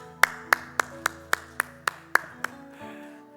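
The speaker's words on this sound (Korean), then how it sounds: "우리 박수로 축복하도록" A church congregation claps in a slow, even rhythm, about nine sharp near claps evenly spaced before fading into a quieter murmur of the room.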